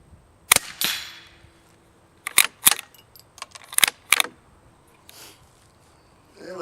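A rifle fires at metal squirrel targets 50 yards away outdoors. There are several sharp, separate cracks and snaps spread over a few seconds, some close together in pairs, each short and loud against a quiet background.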